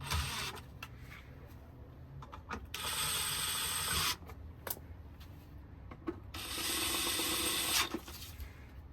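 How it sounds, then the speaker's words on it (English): A ratchet snugs the transmission pan bolts on a 2018 Ford F250 Super Duty diesel, with two sustained bursts of rapid, close clicking separated by quieter handling noises. "Now we're just gonna snug them."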